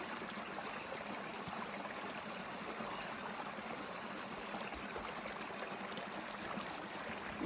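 A mountain stream on Taiwan's Hehuan Mountain trail near Little Qilai flows in a constant broad rushing hiss, steady and fairly close, with no speech over it.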